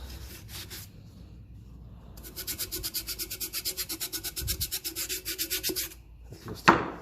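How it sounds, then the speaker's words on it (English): Rust is rubbed off metal threads in a shed workshop with steady, rhythmic back-and-forth scrubbing strokes. The strokes come close and moderately loud, are preceded by quieter rustling, and end with a sharp knock. "Let's just take the bad rust off it."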